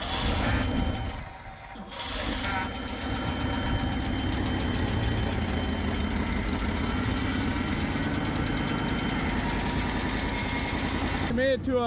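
Jeep Chief engine running after a battery charge, a steady mid-pitched idle with a ticking, knocking rhythm, briefly dipping near the start before settling into an even run.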